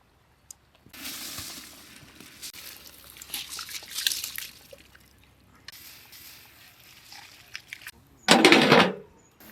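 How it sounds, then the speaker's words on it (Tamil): Washed rice is tipped into boiling water for chicken dum biryani, with a bubbling, trickling stir running on and off before a short, loud splashing burst near the end. "கழுவி வச்சு அரிசி சேப்பம்."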